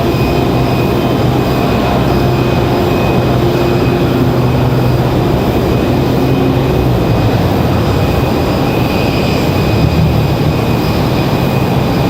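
A Republic Airways airliner arrives at Raleigh Durham airport, its loud, steady engine roar holding without a break from start to finish, with a faint tonal whine running above the broadband rumble.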